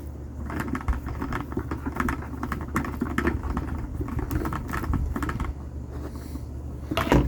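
A plastic pump sprayer's top, fitted with a plastic filter, is screwed down onto a 3-gallon Harvest lawn and garden tank, giving a steady run of close, dense plastic clicks and scrapes with no talk.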